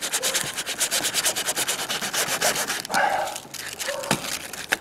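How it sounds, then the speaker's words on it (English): Sandpaper rubbed back and forth over the surface of an inflatable boat, a steady, rhythmic scratchy rasp close to the microphone with a few brief pauses and faint knocks. "I wouldn't be shy of using the sandpaper, all the good parts of it, so you get a really good sand."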